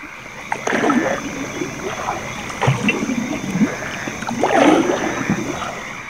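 A boat moves along the Shire river at night, with water sloshing and splashing against the hull in uneven surges and a steady background hiss, while voices murmur faintly under the water noise.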